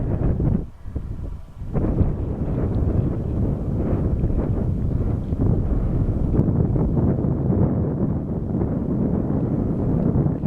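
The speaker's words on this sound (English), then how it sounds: "a bit windy, so you might not hear me as well." Gusty wind buffeting the microphone on the clifftop at Beachy Head, a loud, rumbling low roar that dips briefly near the start and then blows steadily with no voices.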